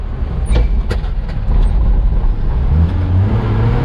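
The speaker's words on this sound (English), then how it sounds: "We're very close to getting it to bump start in this shorter run here" A mini truck engine catches during a bump start in second gear, its loud rough rumble and rolling road noise filling the recording close up, with the engine note steadying toward the end.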